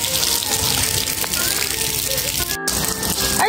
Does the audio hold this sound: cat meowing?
no